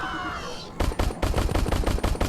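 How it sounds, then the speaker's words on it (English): Burst-fire weapon in the Crashland VR video game, a sharp series of rapid gunshot bursts, loud and close, starting after a brief quieter lead-in and repeating in quick clustered volleys. "use the burst fire so I don't destroy my trigger finger trying to do it"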